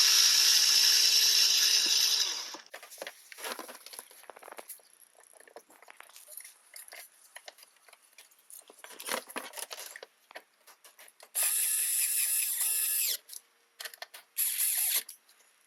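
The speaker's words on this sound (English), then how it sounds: "Reattach the latching mechanism with the 10mm bolt." Power tool ratcheting a 10mm bolt on the frunk latch of a 2021-or-later Tesla Model S Plaid, close up: a loud steady whirring burst at the start, scattered clicks and clatter, then two more loud driving bursts near the end.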